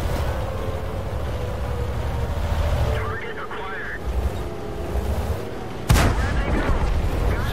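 A tank cannon fires once in the World of Tanks video game, a sudden loud blast rising over steady engine and wind-like rumble, with someone talking over the battle.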